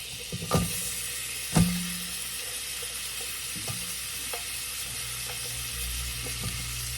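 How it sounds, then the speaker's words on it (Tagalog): Carrots sauté in melted butter for a beef chop suey, a steady soft sizzle broken by a few sharp clinks and scrapes of a utensil stirring against the pan. "Gisa-gisa natin yung ating mga gulay muna."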